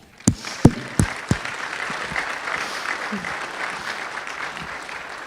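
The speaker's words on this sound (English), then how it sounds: "An applause for Ben." Scattered applause at an energy symposium panel: a few loud, sharp claps up front, then a softer murmur of clapping and room noise tapering off.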